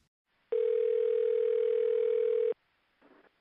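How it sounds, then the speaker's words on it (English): A telephone gives one long, steady electronic ring tone that lasts about two seconds, loud and clean, followed by faint brief sounds. "just about that time the phone rings"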